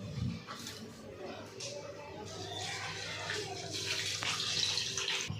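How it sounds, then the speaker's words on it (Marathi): Rice being rinsed in clean water, with steady splashing and running-water sounds throughout, close and moderately loud, with faint background voices. "इकडे बघा घेतलेली मी तांदूळ स्वच्छ पाण्याने आता बंद धुवून घेते"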